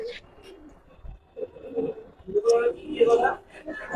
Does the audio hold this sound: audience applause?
no